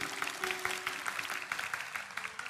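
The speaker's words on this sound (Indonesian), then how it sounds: "Berikan tepuk tangan untuk Tuhan." A church congregation claps steadily throughout a worship service, a dense patter of many hands at moderate loudness with no one speaking over it.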